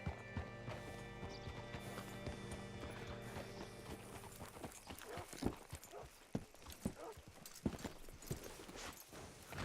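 Horse hooves in Red Dead Redemption 2 clip-clop in a steady walking rhythm, clear and close, with a few sharper louder hoof strikes toward the end.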